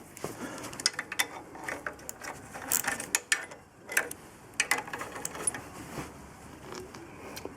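Wrenching off the roughly 13mm nuts on a Lotus Excel's clutch cover plate gives a run of quiet, irregular metallic clicks and ratchet ticks, spaced unevenly and heard close up with no talk.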